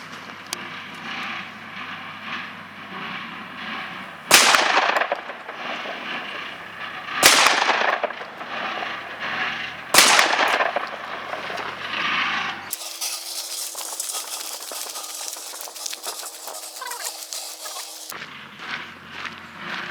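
Slug rounds fired from a D-Doxcarms DCX-17 shotgun at a 36.5-metre range, shooter standing unsupported: three loud, sharp blasts spaced a few seconds apart, each with a brief decaying tail, over steady outdoor background noise.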